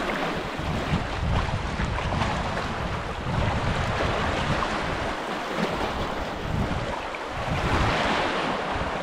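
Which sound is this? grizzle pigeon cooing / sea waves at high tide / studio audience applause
sea waves at high tide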